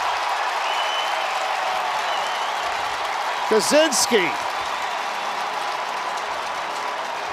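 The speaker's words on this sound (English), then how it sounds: "The crowd is on its feet. The energy is back in the dome." Indoor dome crowd at an NCAA lacrosse tournament game between Harvard and Syracuse, a steady roar of cheering and applause after a Syracuse goal, with a commentator talking over it throughout.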